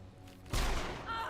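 A single loud gunshot in a video game, a sharp close blast followed by a short decaying rumble.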